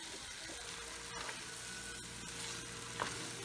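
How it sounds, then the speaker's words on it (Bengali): Chicken pieces being stirred with spices in a frying pan, giving a quiet, even sizzle with occasional faint scrapes and taps of a spoon, heard alone. "এবার চিকেনটাকে ভালো করে মশলার সাথে নেড়ে চেড়ে নিচ্ছি"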